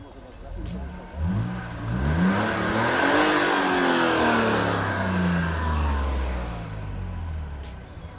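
A Mercedes-Benz W201 190E 2.6 with a factory exhaust revs up, the engine note climbing and sweeping in pitch before settling back, loud and close, with a smooth, rising growl.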